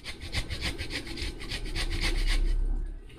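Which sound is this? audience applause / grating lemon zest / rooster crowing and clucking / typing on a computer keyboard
grating lemon zest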